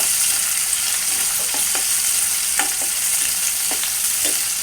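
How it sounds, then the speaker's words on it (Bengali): Onions and garlic frying in a pan for a silver carp curry with potatoes and long beans, a steady loud sizzle under a string of short spatula knocks and scrapes, close by with no voices. "তো পেঁয়াজ আর হচ্ছে রসুনগুলো দিয়ে দিলাম এগুলোকে একটু ভেজে নিব"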